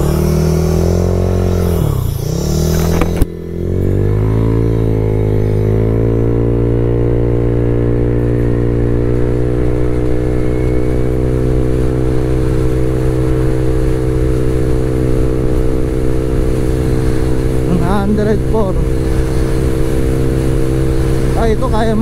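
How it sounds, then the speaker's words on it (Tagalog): Stock-block Honda Click 150 scooter with camshaft and throttle body upgrades, pushed through a top speed run: a steady, loud engine drone that climbs in pitch after an early gear change, with wind roar and a voice talking briefly over it. "testing naman natin itong top speed ng Honda Click ko"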